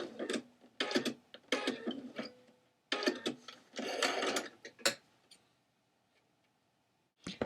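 A sewing machine stitches a stretchy skirt onto a tank top in quick bursts of rapid mechanical whirring and clicking, stopping and starting several times, close and fairly quiet, then trailing into near silence.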